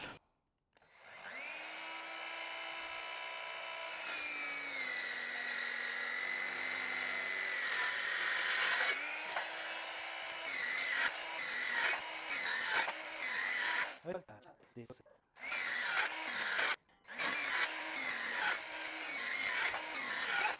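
A budget KLATTER electric saw cuts through a larger piece of pine wood, a loud sustained whine that bogs down as the blade bites, then breaks into choppy bursts and stops near the end.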